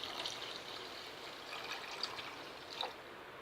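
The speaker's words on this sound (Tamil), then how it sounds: "சிரப் பண்ணுறதுக்காக தண்ணி ஊற்றிடலாம்." Water trickles and streams steadily into a kadai holding two cups of sugar, poured until the sugar is covered to make syrup; a continuous, moderately quiet splashing flow with no talking.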